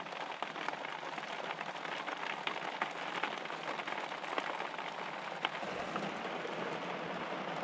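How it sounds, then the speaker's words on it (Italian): Rain drums steadily on the roof and shell of a camper, a dense, close patter of drops with occasional louder taps, continuous throughout and without talk. "Piove anche bene"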